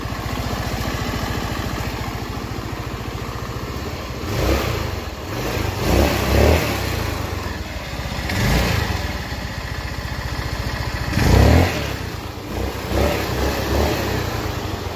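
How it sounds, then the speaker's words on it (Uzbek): A 150cc petrol scooter engine runs at a steady idle, with several short revs swelling and fading across the stretch, heard up close with no talk. "Zavod etib potlab ko'rsatib beramiz"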